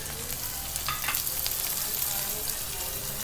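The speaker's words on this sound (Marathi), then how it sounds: "तर आता आपण या सगळ्या भाज्या टाकूया." Chopped vegetables including capsicum frying in a hot pan for green fried rice, with a steady, close, continuous sizzle and occasional stirring scrapes throughout.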